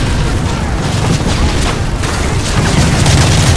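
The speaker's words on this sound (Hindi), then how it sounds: "फाड़ दिया बम।" A bomb blast in the Call of Duty Modern Warfare 3 game, a loud, sustained booming roar with rumbling and crackling debris filling the whole moment, no break in the din.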